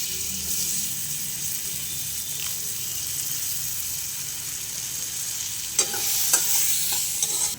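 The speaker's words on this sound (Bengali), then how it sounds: "এবার আমি ওই কড়াইয়ের বাটারটার মধ্যে দিয়ে দিচ্ছি রসুন আর কেটে রাখা পেঁয়াজের কুচি" Steady sizzling of garlic and chopped onion frying in butter in a pan, with a few clinks of stirring near the end.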